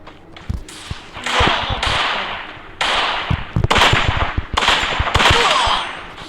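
Rapid gunfire from an online shooter video game comes in repeated bursts of sharp cracks and snaps, loud and close, with brief pauses between volleys and no talk.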